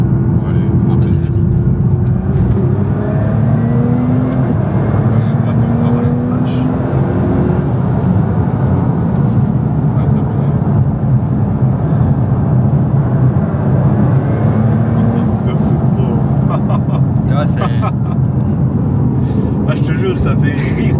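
Nissan GT-R R35 driven hard on the road, with continuous loud engine roar and rising, falling revs heard from inside the car, while occupants talk over it throughout.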